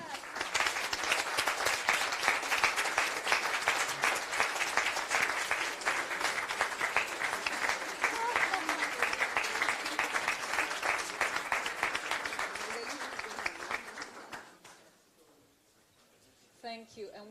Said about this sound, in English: I think that we can clap